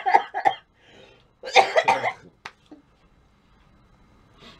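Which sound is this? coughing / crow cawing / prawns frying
coughing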